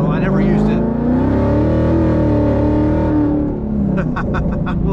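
A supercharged Ford Mustang GT engine rumbles loudly and steadily while driving, with a sustained low roar and a brief rise near the end; a voice talks over it throughout.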